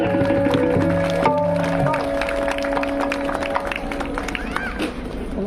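Wedding ceremony guests clapping together in rhythm, a steady patter of many hands under sustained musical tones and a voice, continuing throughout at moderate loudness.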